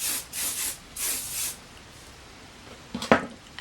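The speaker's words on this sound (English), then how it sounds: "spray a little bit of hairspray just to set your curls." Hairspray sprayed onto curled hair for a bun hairstyle: three soft hissing bursts of varying length, close and fairly quiet, then a short rustle and a brief louder burst of handling noise.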